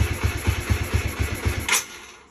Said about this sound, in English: So the engine sounds really good.